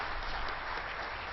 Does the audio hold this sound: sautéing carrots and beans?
no